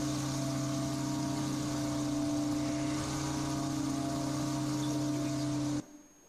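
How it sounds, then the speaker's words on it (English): V8 Corvette engines producing a loud, steady droning hum with strong even tones, close by and unbroken for several seconds before cutting off abruptly near the end. "So that was the loud noise of the V8 car engines."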